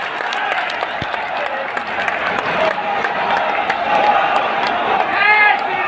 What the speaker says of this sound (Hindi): दोनों हाथ ऊपर करके जोरदार तालियों के साथ स्वागत करें